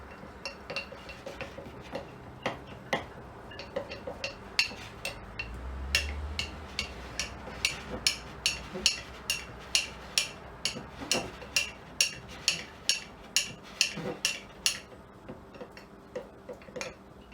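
Sourdough being mixed in a bowl by hand: a steady rhythm of faint clinks and taps from a utensil against the bowl, repeating about once a second, quiet and close, with no talking.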